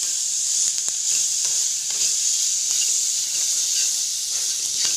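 Spices and turmeric fry and sizzle in a pan for a Tamil avarai paruppu kulambu, a steady close hiss broken by light scrapes of stirring, with no talking.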